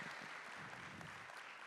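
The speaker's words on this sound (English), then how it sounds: "So please give a round of applause to Katie." Live festival crowd applauding an intro, a steady wash of clapping heard at a distance, quiet and even throughout.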